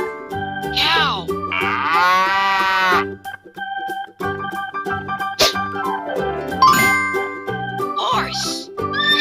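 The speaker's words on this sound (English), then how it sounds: "Cow." A cow moos in a long low drawn-out call amid a bright, busy children's animal-sounds song with jingling chimes and melodic tones, the moo standing out loud and near.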